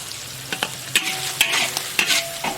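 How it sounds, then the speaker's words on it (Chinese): Pork intestines stir-fried with scallions in a wok: a steady sizzle punctuated by about six sharp, rhythmic scrapes and clanks of the spatula against the metal, close and fairly loud with no talking. "再把这个猪肠炒好的啊，最后把这个葱花"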